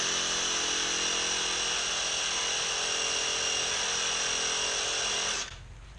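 A power saw cutting PVC pipe, a steady high-pitched whine running loud and unbroken for several seconds before stopping abruptly near the end.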